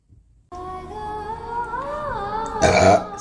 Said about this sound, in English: Wait, I'm gonna burp again.